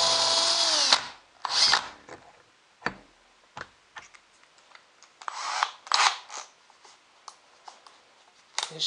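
A power drill bores a pilot hole in a cedar ring box made from a tree limb, giving a short whirring burst followed by scattered clicks, taps and brief bursts of motor noise.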